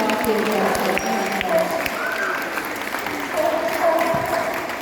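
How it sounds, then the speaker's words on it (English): A crowd at a safari park in England claps in steady applause while a voice carries on over it through an amplified speaker. "But do give Arthur a big round of applause."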